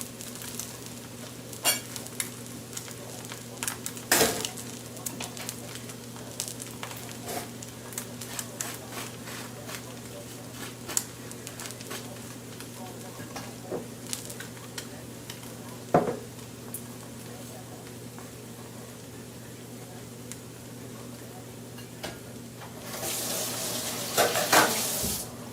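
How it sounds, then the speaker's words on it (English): Eggs frying on a hot cast iron griddle and being flipped: a continuous sizzle broken by sharp spatula scrapes and clacks against the iron, and a burst of louder sizzling near the end. "Go ahead and give the eggs a flip. That's what I like about the cast iron."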